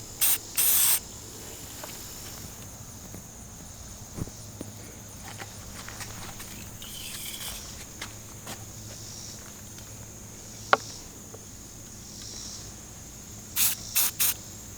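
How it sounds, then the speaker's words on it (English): Short bursts of spray paint hiss from an aerosol can marking a dot on soft ground at a foundation layout, two quick sprays at the start and two near the end, with faint footsteps and rustling between. "the point down there gives me a nice dot to then spray paint"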